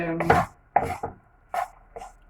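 Fried rice being stirred and scraped in a hot pan, four separate bursts of clattering, scraping strokes, each sharp at the start and fading quickly, close and fairly loud with no voices.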